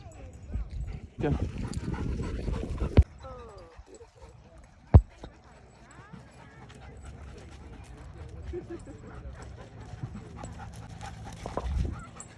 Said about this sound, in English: the dogs are a little excitable